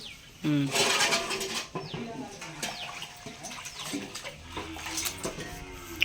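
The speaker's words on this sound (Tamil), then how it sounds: "தண்ணி ஊற்றணும்" Water splashes and pours into a pot in uneven bursts, with people talking nearby over the clatter.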